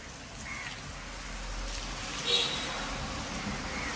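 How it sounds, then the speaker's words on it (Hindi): Steady rain pours down with a constant broadband hiss, water running beneath it, one brief louder splash partway through. "ये देखो पानी कैसे चल रहा है यार, कैसे पानी हो रखा।"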